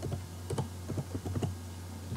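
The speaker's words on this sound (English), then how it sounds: "let's go ahead and try to access this application by typing the URL" A URL being typed on a computer keyboard, heard as a quick, uneven burst of crisp key clicks close up, with no talk.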